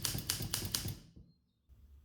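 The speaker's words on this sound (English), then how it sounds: "These of course are the buttons to change the color of the ribbon." A 1958 Adler Universal typewriter gives four crisp mechanical clacks in even rhythm as its ribbon colour buttons are pressed, close and fairly quiet, followed by near silence and a soft low rustle.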